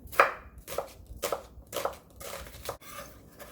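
A knife slices onion on a cutting board for a cucumber salad, about six crisp chopping strokes in an uneven rhythm, close and fairly quiet with no voices.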